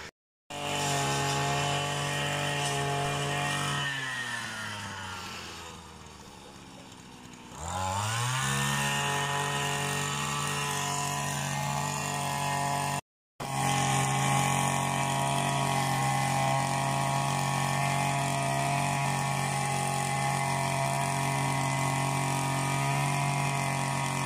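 A heavy petrol lawn mower runs close and loud while mowing grass, its engine dipping and bogging briefly before revving back up, then droning steadily with a short cut-out partway through.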